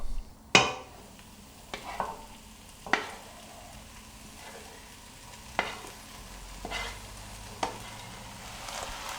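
Carrot, pepper and other vegetables sizzle in a hot pot for pork goulash while a spoon stirs them, with several sharp knocks and scrapes against the pot over a low steady frying hiss, close and alone.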